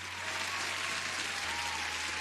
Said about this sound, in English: You deserve the applause as well.